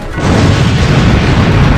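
A burning motorboat explodes: a loud, deep explosive boom bursts in and rumbles on, dense and powerful, filling the short moment.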